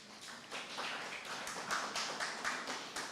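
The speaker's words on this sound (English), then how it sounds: "Please put your hands together." A small audience claps to welcome a speaker to the podium at a farm tour launch, a thin, sparse patter of scattered hand claps heard from a distance, fairly quiet and uneven, with no talking over it.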